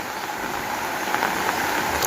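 Heavy rain pours steadily on a flooded area in front of a house, a dense, constant hiss of falling water close by with no pauses or voices.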